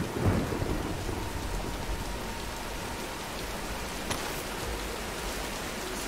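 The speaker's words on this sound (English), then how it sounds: "let's wait out the storm" Steady, loud rain pours throughout a thunderstorm in the Tomb Raider video game, with a deep rumble of thunder early on and a sharper crack near the end. No voices.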